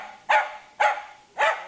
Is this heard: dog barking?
yes